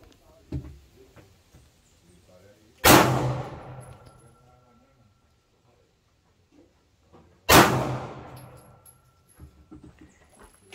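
Two sharp, loud shots from a Canik pistol at a practice range, each cracking out with a ringing tail several seconds apart, with soft voices and small movement noises in between.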